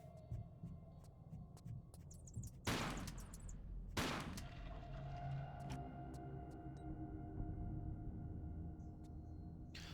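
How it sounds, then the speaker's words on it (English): Two loud shotgun blasts in the Tomb Raider Last Revelation game, a couple of seconds apart, each sharp and booming, set against a low hum and faint ticking ambience. "let's go ahead and pull out the shotgun"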